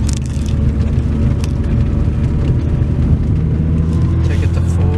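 Car engine pulling hard and rising in pitch as a manual gearbox fitted with a DieselGeek short shifter is run up through the gears on snowy roads, loud steady engine and road roar throughout.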